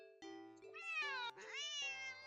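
A pet cat meows angrily in a string of close, loud, drawn-out wails, each rising and falling in pitch with brief gaps between them.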